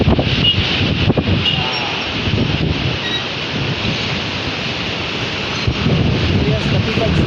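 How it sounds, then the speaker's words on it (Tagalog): Strong wind buffets the microphone in heavy gusts, rumbling throughout, with brief voices. "Hangin ang lakas."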